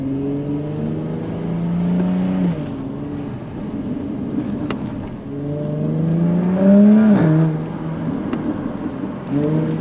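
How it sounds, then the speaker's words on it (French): A Jaguar F-Type convertible's 340-horsepower supercharged V6 with sport exhaust revs up loudly and close several times, each rise in pitch followed by a drop and small exhaust crackles between the revs. "très belle sonorité avec cet échappement sport. On a des retours à l'échappement. C'est vraiment un bruit magnifique ce V6 compresseur."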